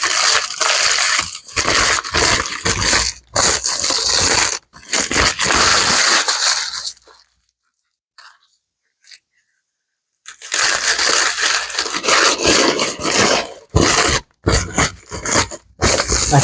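Parchment paper is crumpled by hand to soften it for lining a pie plate: loud, crinkly crushing in repeated bursts, then a few seconds of near silence before the crinkling resumes.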